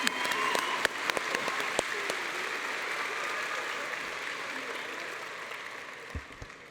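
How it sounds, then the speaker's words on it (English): Graduation ceremony audience at Memorial Composite High School applauding teachers and families: sustained broad clapping from a large crowd throughout, steady and fairly loud, with a few sharper individual claps standing out near the start. "let's take a moment to give them a huge round of applause"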